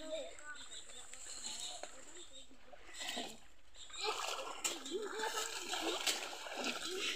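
Someone wades through knee-deep river water, with repeated splashing and swishing steps, faint at first and then louder and busier, while a person talks over it.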